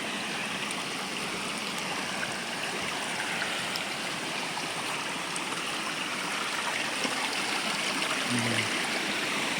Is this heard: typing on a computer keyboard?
no